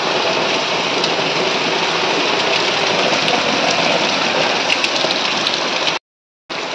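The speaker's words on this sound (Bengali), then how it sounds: "বর্ষার বৃষ্টি, একদম ভালোভাবে শুরু হয়ে গেছে, সাথে মেঘও ডাকছে" Heavy monsoon rain pours steadily outside a house window, a dense, loud, unbroken roar of falling water that stays even throughout, with a brief cut to silence near the end.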